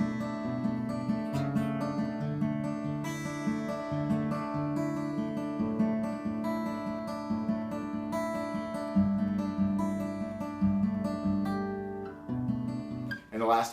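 Steady acoustic guitar strumming a verse pattern, ringing chords repeating evenly, ending with a quick final strum.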